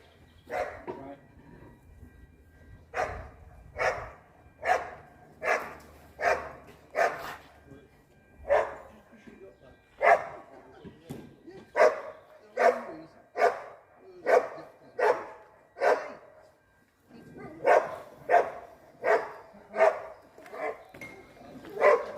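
A dog barks in a steady series of loud, evenly spaced single barks close by, with short pauses between bursts and faint background noise.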